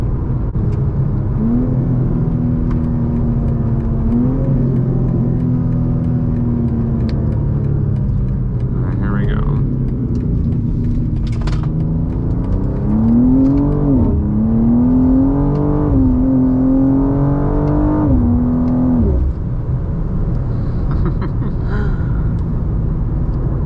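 A G87 BMW M2 sports car on a hot day pulls hard from a 40 mph roll, its engine note rising steadily through the gears with brief dips at each shift, loud and close, with occasional speech over the drone.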